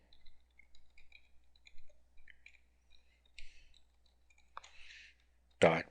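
Light keyboard clicks tap out in a loose irregular run, soft and close, as an address is typed into a web browser, with one louder click near the end.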